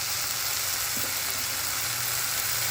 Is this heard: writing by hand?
no